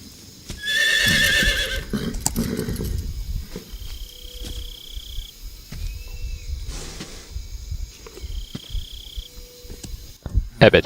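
A loud horse whinny near the start, followed by hoofbeats, chirping insects and occasional tonal beeps in a quiet outdoor ambience from the video game Metal Gear Solid 3: Snake Eater.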